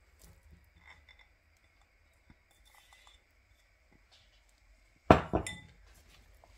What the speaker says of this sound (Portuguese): Vou colocar o ovo.